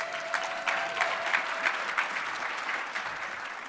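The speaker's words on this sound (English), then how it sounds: "Now you can clap, Franchella." An audience claps steadily after a speaker's introduction at a business event, a warm even patter of hands throughout.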